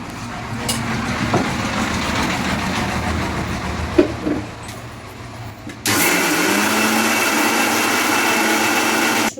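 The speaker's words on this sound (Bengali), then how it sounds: "এবার মা এগুলো ব্লেন্ড করে নিচ্ছে।" Blender grinding soaked rice for chitoi pitha, a steady loud motor whir with rising pitch and a sharp jump to higher speed partway through, running alone without talk.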